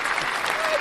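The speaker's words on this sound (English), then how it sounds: "let's get some applause in there." A short burst of applause from a crowd, dense steady clapping with faint voices underneath.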